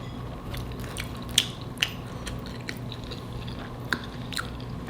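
Close-up mouth sounds of chewing a homemade chicken pot pie spaghetti bake with a crunchy crust, a few sharp crunchy bites standing out over soft, wet mastication.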